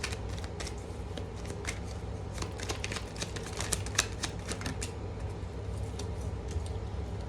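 A deck of oracle cards is shuffled close by in a continuous run of crisp riffles and soft slaps for about seven seconds, with no talking.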